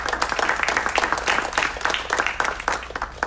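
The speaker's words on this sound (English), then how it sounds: "Let's please give them another round of" Audience applauds city emergency coordination staff at a mayor's media briefing, a steady round of many hands clapping at moderate volume, with no talk over it.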